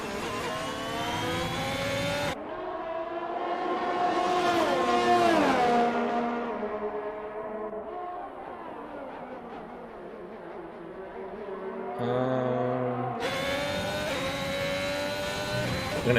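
Formula race cars lapping the Bahrain circuit in a racing video game, high-pitched engine whine rising and falling through gear changes and passes, steady and continuous with faint commentary underneath.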